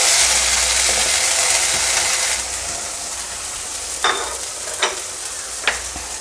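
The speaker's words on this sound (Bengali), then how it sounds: "কড়াই গরম হয়ে গেছে এবার এর মধ্যে পটলের পেস্ট" Loud, steady sizzling of pointed gourd paste frying in a hot wok, with a few sharp scraping stirs near the end.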